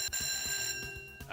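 A telephone rings in the point-and-click game Simon the Sorcerer. Rapid, bright electronic trills repeat in a steady pulse, loud and alone.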